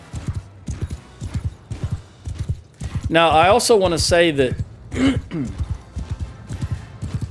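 Cavalry horses gallop in Mount & Blade II Bannerlord, rapid rhythmic hoof thuds under battle noise, with someone talking over them and a brief whinny-like cry midway.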